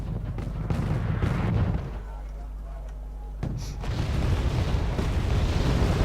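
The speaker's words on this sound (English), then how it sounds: "so mortar it, but in the wrong place. Five mortars." Mortar fire in the real-time strategy game Wargame: repeated deep booms and rumbling blasts come in heavy bursts, with a quieter lull in the middle, while a voice talks over them.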